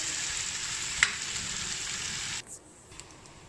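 Bitter gourd sautéing in a pan, a bright steady sizzle with a small clack of stirring, then the hiss drops abruptly to a faint low simmer near the end.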